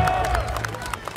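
A crowd at a Pegida rally applauds a speech, with scattered claps and crowd noise mixed with murmuring voices throughout.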